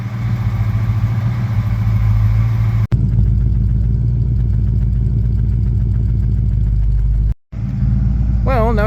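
A 1966 Dodge Coronet V8 idling steadily while warming up, a loud close rumble that holds even for several seconds and then cuts out briefly near the end before picking up again.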